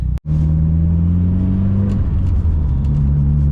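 A car engine hums steadily up close, its pitch climbing smoothly as the vehicle pulls away and accelerates, with a deep rumble underneath.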